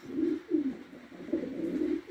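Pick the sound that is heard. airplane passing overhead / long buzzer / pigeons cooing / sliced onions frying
pigeons cooing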